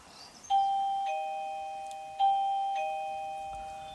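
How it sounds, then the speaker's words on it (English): A two-tone electronic driveway alert chime sounds twice, each bright ding ringing out and slowly fading, in an otherwise quiet room. "That's the wee bell to tell me if there's something or someone coming up the driveway."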